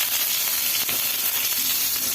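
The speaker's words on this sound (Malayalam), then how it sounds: "ഈ കറിവേപ്പിലയും കുത്തുമുളകും നമ്മൾ ഇതിലോട്ട് ഇട്ട് കൊടുക്കുക കേട്ടോ" Mustard seeds, curry leaves and crushed chillies sizzle in hot coconut oil, a dense, steady crackling hiss that stays close and even throughout, with no voices.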